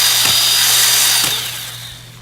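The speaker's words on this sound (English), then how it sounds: "It's basically a chainsaw inside the head, and I will show you how it works." A Worx JawSaw battery-powered chainsaw cuts through wood with a loud, high, buzzing whine that fades toward the end of the brief cut.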